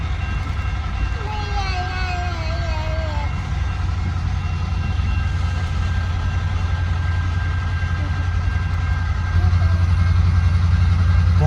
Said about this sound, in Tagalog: abutan namin tong patawid na train